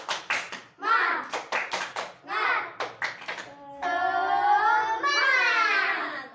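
Classroom clapping chant, tepuk semangat, in a science lesson: bursts of rhythmic group hand claps in short patterned sets alternating with children's voices, ending in a sustained shouted chant.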